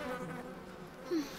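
Bees buzz in a close, steady drone for a brief moment, a thick continuous hum with no voices over it.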